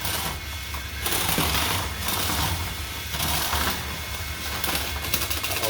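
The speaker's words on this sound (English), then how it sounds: "Riptide's weapon motor has remained on even after their weapon stopped." The weapon motor of a Hexbug battlebot keeps running after the weapon has stopped, a continuous rattling mechanical buzz that surges and dips in a rough, pulsing rhythm.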